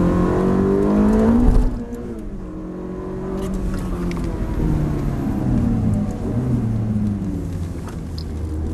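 A Ferrari F430 engine revs on a race track, climbing through the rev range, dropping sharply at a gear change, then rising again in a loud, sustained, rumbling howl heard from on board.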